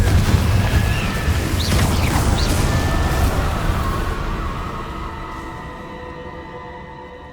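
The Confringo explosion spell from Hogwarts Legacy goes off as a loud, booming blast with heavy low rumble, then decays slowly over several seconds into a fading ringing tail.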